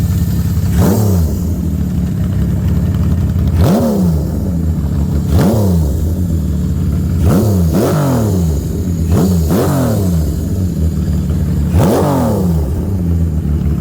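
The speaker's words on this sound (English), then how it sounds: "This is the Ferrari of motorcycles right here. Look at this, 6-cylinder." A loud six-cylinder 916 cc Benelli Sei 900 motorcycle engine idles and is blipped repeatedly, each rev rising sharply then falling back, about six times at irregular intervals.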